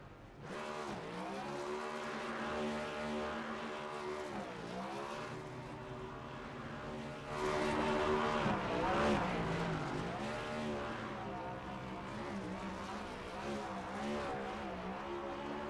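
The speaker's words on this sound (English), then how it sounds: "Stryker puts on some of the best burnouts" Race car burnout in the iRacing sim during an antique and vintage cup series event at Phoenix, a steady loud engine drone with revving swells and tire squeal, peaking around the middle, with no talk.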